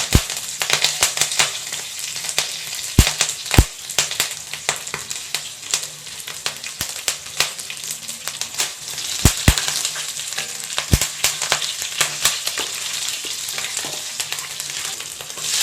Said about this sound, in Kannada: ಸಾಸಿವೆ ಹಾಕ್ಕೊಳ್ಳಿ, ಸ್ವಲ್ಪ ಜೀರಿಗೆ, ಒಣಮೆಣಸಿನ್ಕಾಯಿ, ಸ್ವಲ್ಪ ಬೆಳ್ಳುಳ್ಳಿ ಹಾಕ್ಕೊಳ್ಳಿ